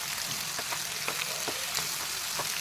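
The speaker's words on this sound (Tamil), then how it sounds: "இந்த 3 மாங்காய் இது வந்து நல்லா வதக்கிக்கலாம்" Chopped raw mango pieces sautéing in oil for mango thokku, giving a steady close sizzle with a few soft taps and stirring clicks scattered through it, and no talking.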